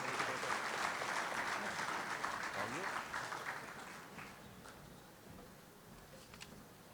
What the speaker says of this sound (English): another round of applause for all our student athletes, coaches, players of the year